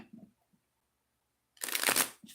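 A deck of tarot cards gets one brisk, loud riffle shuffle, close and dense for about half a second, after some faint handling noises, then a short soft tap at the end.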